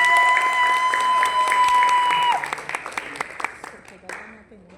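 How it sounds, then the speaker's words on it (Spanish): Audience applause welcoming speakers at a cultural mediation event, a crowd clapping steadily with a sustained tone fading out midway, the clapping thinning into scattered claps. "Un aplauso,"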